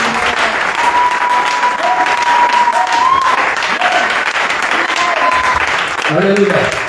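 A church congregation applauds loudly and steadily, sustained clapping filling the room for several seconds with crowd voices mixed in.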